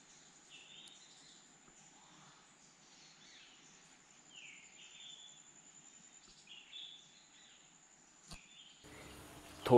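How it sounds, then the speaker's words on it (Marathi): Various birds call in quiet countryside, with soft scattered chirps and short whistled phrases over a faint insect hum, fairly distant and sparse, ending in a brief rustle. "फक्त होती ती शांतता आणि निरनिराळ्या पक्ष्यांचे आवाज"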